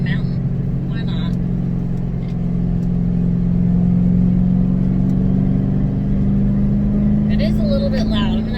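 Ford Mustang GT, a NASA Spec Iron race car, heard from inside the cabin while driving over a mountain: a loud, steady low engine drone with a slight rise, with brief chirps and clicks on top.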